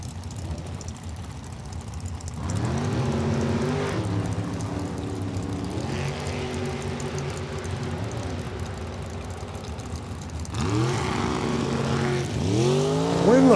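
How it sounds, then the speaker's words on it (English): Mopar Power dragster engine at a drag strip, loud and sustained, with several rising revs and a strong surge near the end; distant crowd and ambient noise sit under the engine roar throughout. "n Bergenschneider, out of Waverly, Illinois, in his undercover Mopar Power Dragster."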